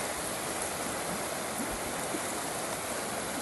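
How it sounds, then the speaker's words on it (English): The Routeburn River at a campsite rushes steadily, a continuous close wash of flowing water with no breaks. "Nice river, always nice to sleep next to running water. I love the sound of it."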